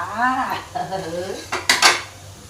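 Insects dry-roasting in a pan are stirred with a metal utensil, producing a few loud ringing scrapes and clanks against the pan, close up, with short pauses between strokes.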